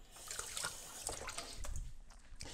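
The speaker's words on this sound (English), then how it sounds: "Let me rinse that spoon." A spoon rinsed under running kitchen tap water, a short close splashing and trickling with a few clinks, fairly quiet and with no talk.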